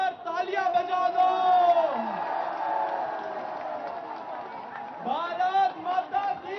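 A large crowd cheers and applauds loudly, with voices shouting over steady clapping that swells and then continues.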